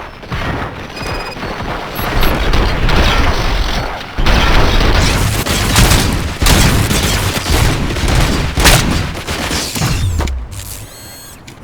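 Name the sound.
gunfire from video game RoboCop Rogue City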